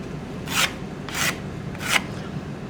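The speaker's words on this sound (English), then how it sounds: "we put our lines across the rough surface" Three short, evenly spaced scratchy strokes of a pencil drawing lines across rough, unplaned wood, close and fairly quiet over a low background hum.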